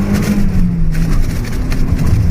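A Fiat Egea car's engine drones loudly and close up, with a brief strained rise in revs during a short burst of driving.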